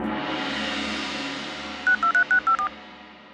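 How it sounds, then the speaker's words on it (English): Cartoon bamboo phone being dialed: six short, evenly spaced beeping tones in quick succession over a soft background hum. "To the bamboo phone!"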